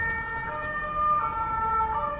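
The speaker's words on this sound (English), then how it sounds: "Ambulance." A wailing ambulance siren with a steady rising and falling tone, fairly loud and clear, heard over faint background rumble.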